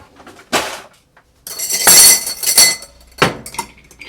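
Ice cubes drop into a glass for a stirred cocktail of amontillado sherry, Bénédictine and Rittenhouse rye, giving several bright clinks and clatters in quick bursts, close and fairly loud with no talking.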